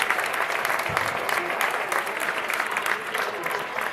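A crowd at a girls' high school postseason basketball game, Storm Lake St. Mary's vs Westwood, stands and applauds the Panthers with dense, loud, continuous clapping and cheering throughout.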